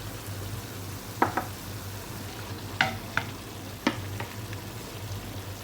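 Chicken adobo with lemongrass, bay leaf and soy sauce sizzles steadily in a pan, with a few sharp clinks and stirring scrapes standing out against the frying hiss.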